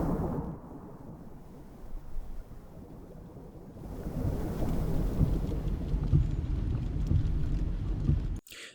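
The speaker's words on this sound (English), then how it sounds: "if you listen, you can hear the windshields going because it's raining" Steady rain heard from inside a car, with a broad washing hiss that grows louder midway and low rumbling underneath, staged as weather for a radio drama; no distinct wiper strokes stand out, and the sound cuts off abruptly at the end.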